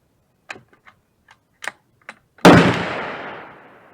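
A Ruger Mini-14 rifle chambered in 7.62x39 fires one loud, sharp shot outdoors at a target, with a long ringing decay. A few faint light clicks come before the shot.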